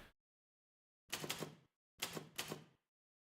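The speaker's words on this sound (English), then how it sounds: "Are you guys enjoying the typewriter?" Typewriter keys clack in two short bursts of three or four quick strikes each, after a brief tap at the start, close and crisp against silence.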